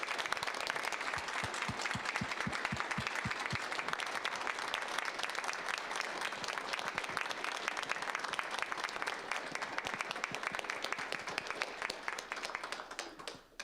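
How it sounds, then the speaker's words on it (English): Sustained applause from a seated and standing audience at a Phi Theta Kappa induction ceremony, thick continuous clapping with a few sharp individual claps near the start, holding steady before tapering off. "would you please give these people a round of applause tonight?"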